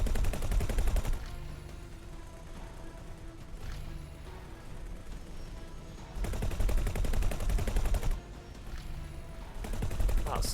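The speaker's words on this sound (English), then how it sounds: "somebody's shooting that with something that just goes right through shields" Weapon fire in the space combat game X4: Foundations: sustained, dense rapid-fire bursts that start and stop over a steady engine-like drone, with no talk.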